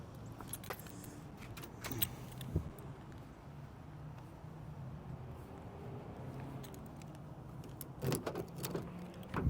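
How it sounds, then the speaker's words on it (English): Keys jangling in a quiet car, several light metallic clinks and rattles near the start and again toward the end, close by over a low steady cabin hum. "grab my keys real quick."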